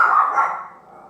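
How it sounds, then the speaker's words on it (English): Dogs barking indoors, a short loud burst of barks that quickly fades into a quieter tail, with no talk over it. "sorry, my dogs"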